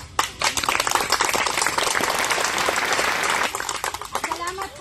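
Applause from people gathered at an outreach event for indigenous community members in Olongapo, a dense burst of clapping running through most of the moment with voices mixed in, then thinning out near the end.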